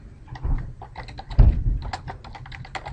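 Keys clatter on a computer keyboard as a team name is typed into training software setup, a close, steady run of quick taps with a couple of heavier strokes, no voices.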